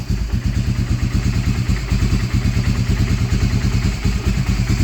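A Honda Fortrax ATV engine idles steadily after an idle adjustment, its rapid even low putter and mechanical clatter close and loud, running alone without voices.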